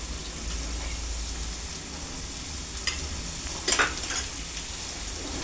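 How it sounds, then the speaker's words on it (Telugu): Chicken pieces fry with ginger garlic paste and turmeric in a pan, a dense, even sizzle broken by a few brief stirring scrapes, with no speech. "తర్వాత పసుపు అంతా పట్టే వరకు చికెన్ ముక్కలకి బాగా వేయించుకోవాలి."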